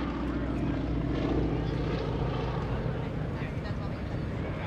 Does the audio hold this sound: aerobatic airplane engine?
yes